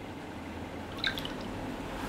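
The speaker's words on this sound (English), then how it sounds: "you can see the water ripple effect and you can hear the water rippling" Samsung Galaxy S3 lock screen water ripple effect: a single soft, brief droplet plink rises out of an otherwise quiet, hushed background near the middle.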